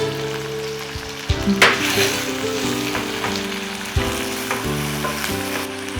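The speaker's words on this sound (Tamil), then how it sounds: "கொஞ்சம் புளிங்க இது நல்லா வதக்கி கல் உப்பு போட்டுக்கலாம்" Tamarind, tomato and spices sautéing in a pan for a spicy South Indian chutney: a loud, continuous sizzle with stirring scrapes, over a low melodic background.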